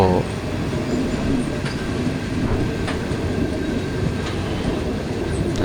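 A passenger express train on the Bangkok–Ubon line rumbles steadily along the rails near Buriram with a continuous low roar and faint clicks, heard from inside a carriage.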